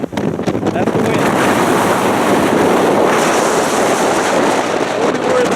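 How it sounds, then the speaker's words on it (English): Strong wind roars across a trail peak on the Ray Miller Trail in Malibu, buffeting the microphone in a constant, loud, broadband rush that barely eases for several seconds. "Now that, whoa, that's the wind."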